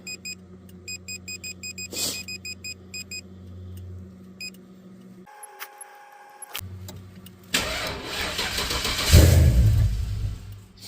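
A Box Chevy, a boxy Chevrolet car, starts up after a rapid ticking chime, idles with a rough mid-pitched rumble, then revs louder near the end without any talk.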